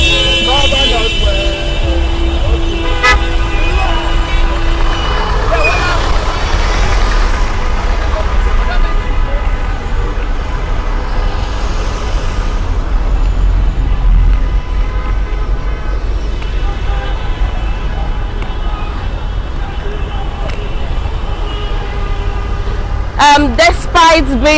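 Steady roar of vehicles arriving at Lekki toll plaza in Lagos, with traffic rumble throughout, occasional honks and a burst of horns near the end, mixed with crowd noise and voices.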